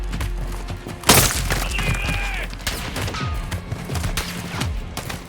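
Sniper rifle fire in the Modern Warfare 2 campaign: a loud, sharp crack and boom over dense in-game gunfire, debris and effects, with a lingering echo and scattered further shots and whooshes.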